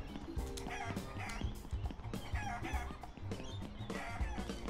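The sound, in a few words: chickens clucking in a chicken coop, from a video game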